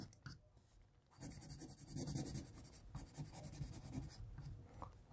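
A pencil scratches and shades on paper while a graffiti sketch is drawn, giving a steady close scraping with short strokes and brief pauses, with no voices.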